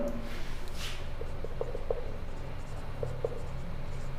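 A pen scratches steadily across a surface as a maths problem is written out, with a few light taps and no talk.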